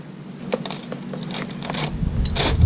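Metal bolts on the charcoal canister of a 2020 Suzuki DR650 being undone with a 10 mm tool, giving close, irregular ratcheting clicks and small mechanical rattles in a workshop.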